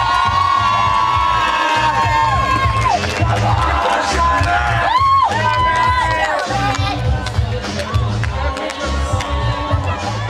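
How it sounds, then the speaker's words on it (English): A packed arena crowd at a UFC Fight Pass event roars, cheers and whoops for fighter Charlie Peters, with loud, sustained shouting and applause throughout and voices calling out over the din. "Huge round of applause, Charlie Boy Peters."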